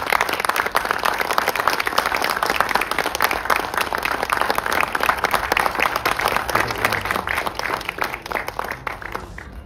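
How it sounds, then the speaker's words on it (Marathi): Sustained audience applause fills a trailer launch ceremony for the Marathi film Punha Shivaji Raje Bhosale, a dense, steady wash of many hands clapping that holds at an even level from start to finish. "एकदा जोरदार टाळ्या झाल्या पाहिजे"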